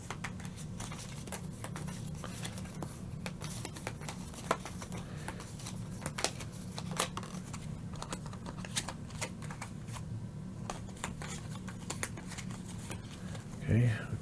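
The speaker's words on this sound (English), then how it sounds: "I shuffle the deck." A deck of cards being shuffled at a tabletop during a solo board game, with rapid papery riffling and sharp flicks repeating across the stretch, fairly close but soft, under a low steady hum.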